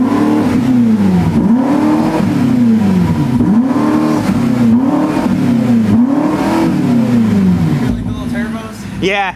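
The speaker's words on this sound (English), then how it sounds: "Wait, is it like an active exhaust?" A car engine with active exhaust revs repeatedly in rhythmic pulses, loud and close, each rev rising and falling with a throaty exhaust note.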